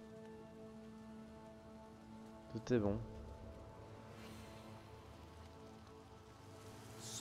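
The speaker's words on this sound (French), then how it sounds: "maintenant tu peux faire pleuvoir" Steady light rain patters in the background in Divinity: Original Sin, with a brief sharp swell of sound partway through and a short spoken phrase.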